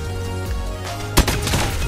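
A sniper rifle headshot in Call of Duty Mobile gives one sharp, loud crack midway through, standing out over steady game music and ambience.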